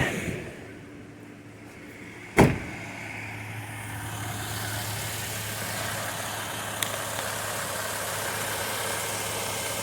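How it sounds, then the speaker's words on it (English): A 2011 Subaru Outback with a five-speed automatic sits idling close by, a steady low engine hum running throughout, broken by a single sharp knock early on and a faint click later. "Leave the car running."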